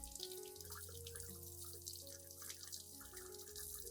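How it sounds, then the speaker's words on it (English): Clean water runs steadily from a tap over a potted aloe vera plant, a continuous close splashing and trickling with scattered drips and no voices. "Next, thoroughly rinse the entire plant with clean water."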